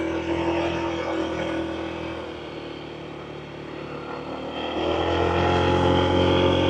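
A Honda ADV160 scooter's engine drones steadily as it climbs a steep hill, a continuous moderately loud hum that dips slightly midway then swells stronger toward the end, with wind noise over it.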